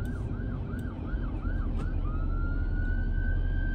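Wailing police siren sweeps up and down repeatedly, then holds a rising steady tone, loud and nearby over heavy road traffic rumble; the police vehicle is accompanied by a fire truck on a street in the Philippines.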